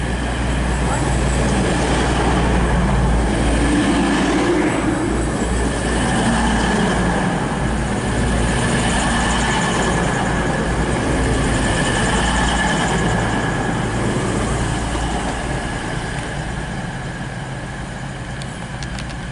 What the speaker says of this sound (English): departing now is 222007 on the 1628 East Midlands train service from Nottingham to London St Pancras